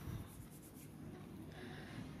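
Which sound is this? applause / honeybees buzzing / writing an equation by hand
writing an equation by hand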